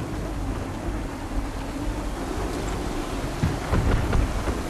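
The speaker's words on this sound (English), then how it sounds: "Rogue wind! Heavy gusts, captain!" Heavy wind gusts roar at sea aboard a colonial sailing warship in the Assassin's Creed 3 video game, a dense, steady wash of stormy noise with low rumbling surges and water sounds near the end.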